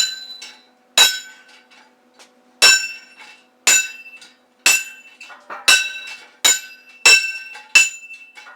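Steel paddles on a homemade dueling tree handgun target ring out in about nine sharp metallic clangs at uneven intervals, each bright strike ringing on briefly before it fades, with no talking.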